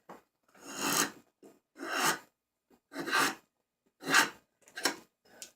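Rough rasping strokes of a tool flattening the bottom of a carved wooden kuksa bowl, six separate close, scraping passes with brief pauses between them, no voices.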